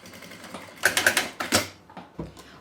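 A sewing machine backstitches to reinforce a seam joining the lining to the outer body of a handmade bag. It runs close by in several short, rapid bursts of stitching with pauses between them, and no one talks.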